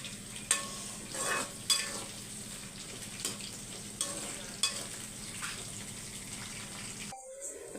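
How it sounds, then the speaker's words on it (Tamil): Meal maker soy chunks frying in oil in a pan, a bubbling sizzle broken by several sharp utensil knocks and stirring scrapes, close, ending abruptly. "பாருங்கள் மெல்மேக்கர் நல்லா பொரிஞ்சிருச்சு"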